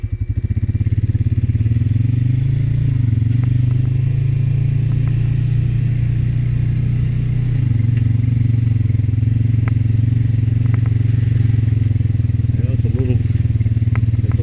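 A Honda Rancher 420 ATV driving down a steep slope and through a muddy trail ford, its engine droning loudly and steadily close by, shifting pitch midway, with occasional clatter and scrapes from the trail.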